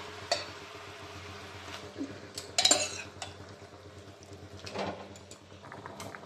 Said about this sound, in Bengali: এবার আমি কষে রাখা মশলার উপরে ডালটা দিয়ে দিচ্ছি।